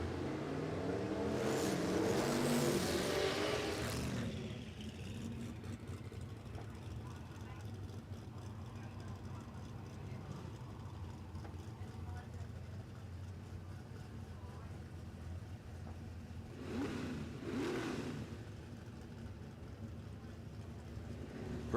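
No-prep drag racing cars, including an HQ Ute, launch at Warwick Dragway in Australia: a loud engine roar surges early and fades, a steady rumble holds, then a second brief burst of revving comes near the end.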